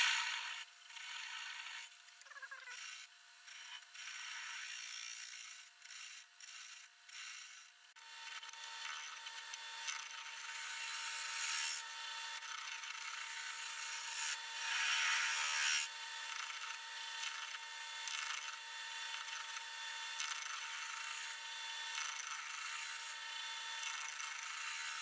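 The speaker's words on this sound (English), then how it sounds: "Going to turn off that little nib there with a spindle gouge, a detail one." Woodturning a boat-style wooden bowl on a lathe, cutting with a detail spindle gouge: a close, continuous hissing scrape of the tool on spinning wood, choppy at first and then steady and sustained, with no talking.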